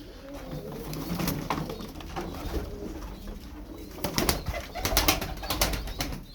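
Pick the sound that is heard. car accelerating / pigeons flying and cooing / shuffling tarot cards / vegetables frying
pigeons flying and cooing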